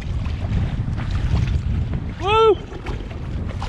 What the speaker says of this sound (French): je vais me taper le vent et les vagues